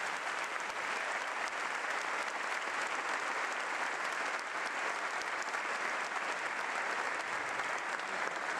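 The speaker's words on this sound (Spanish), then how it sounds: "Aplaudí fuerte en esta hora a Él." Sustained, even applause from a church congregation during a sermon, a dense wash of clapping at moderate distance that holds steady throughout with no voices over it.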